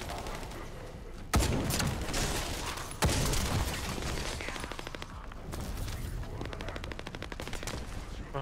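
Gunfire in the shooter game The First Descendant: two heavy sniper-rifle blasts stand out, then a stretch of rapid, rattling fire continues under dense battle noise.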